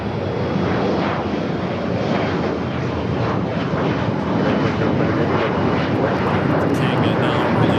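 Airbus A380 jet taking off from runway 24 left at LAX, a loud continuous broadband engine roar that stays steady and close throughout, with a voice talking faintly under it.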